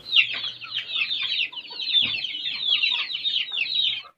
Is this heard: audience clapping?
no